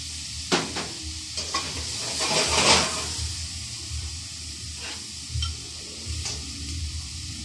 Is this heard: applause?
no